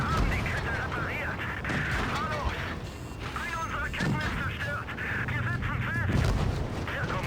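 Tank cannons fire and shells ricochet off armor in World of Tanks Blitz, with Jagdtigers and Shermans trading shots. Dull booms and metallic impacts sit over a constant rumble of battle, partly masked by talk.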